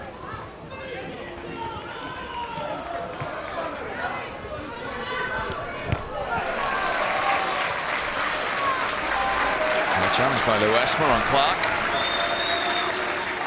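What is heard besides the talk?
football stadium crowd cheering, Barnet vs Wrexham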